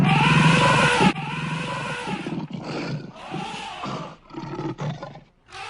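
A lion roars loudly and close, a long sustained roar followed by shorter, fading grunting roars, with no other sounds.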